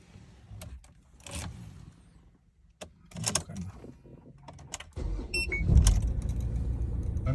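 A Ford Wildtrak 2.2 pickup after standing overnight: keys jangle, a few clicks and clunks, then the engine fires and settles into a steady idle that fills the last couple of seconds, with no talking.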